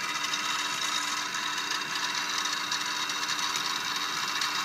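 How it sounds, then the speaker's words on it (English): Harbor Freight milling machine cutting a slot in a gear blank, a steady high-pitched whirring grind with a faint mechanical hum underneath, continuous and fairly loud throughout. "And now I'm using the milling machine to cut it off"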